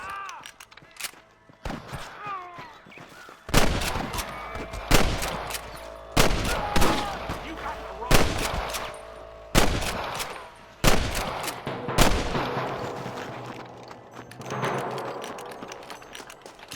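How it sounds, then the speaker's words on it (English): Repeated loud gunshots in Red Dead Redemption crack out in bursts, some rapid like automatic fire, spaced across the stretch with brief quieter gaps and faint background sounds. "I can hear more gunshots."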